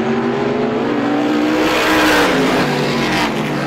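Race cars battle for position at Star Speedway, the engines a loud, continuous, close roar that swells slightly as they pass, with no talk over it.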